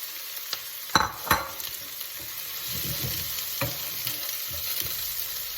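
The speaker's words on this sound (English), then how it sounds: "So we're going to pan fry them now." Eggplants and meat pan frying for Sicilian stuffed eggplant, a steady soft sizzle with a few clattering stirs and utensil knocks near the start, no talking.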